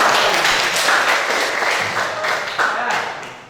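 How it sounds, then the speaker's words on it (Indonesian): Classroom applause for a student's answer about CVT transmissions, a short burst of many hands clapping close by that fades slightly over a few seconds. "Kasih tepuk tangan."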